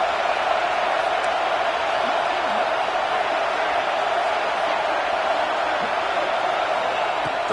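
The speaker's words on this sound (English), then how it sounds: "Third down, and the crowd really getting into it." Football stadium crowd at a USC game roaring on third down, a steady, dense wall of cheering and noise that holds loud and unbroken throughout.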